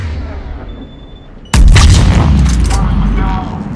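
Intruders open fire in Mass Effect 3, a sudden loud burst of heavy gunfire and booming blasts after a quieter lead-in, continuing dense and close until the end.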